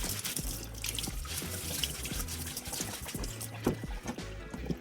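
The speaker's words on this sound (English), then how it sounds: "you want to wash your burdock. You can scrub it with a clean abrasive sponge, or you can use a wad of aluminum foil like this." Burdock root being washed under running water and scrubbed with a wad of aluminum foil, with a continuous splashing flow at a sink and rhythmic rubbing and clatter over it.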